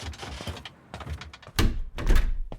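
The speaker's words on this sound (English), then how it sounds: "Close the door. Close the door." A door is pushed shut with a heavy thunk, preceded by rustling and shuffling movement, then a second dull knock as it settles, loud and close.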